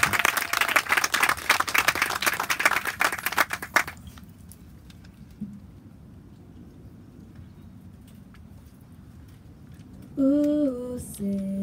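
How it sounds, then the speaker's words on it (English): Outdoor audience at a recreation center groundbreaking ceremony applauds for a few seconds, the clapping stopping abruptly into quiet ambience before a sustained musical voice begins near the end. "So let's give Peyton a big round of applause"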